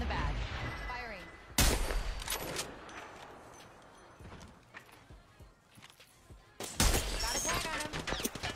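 Bursts of gunfire from Apex Legends crack and rattle in rapid volleys that start and stop, loud and close, mixed with game voice lines and other speech.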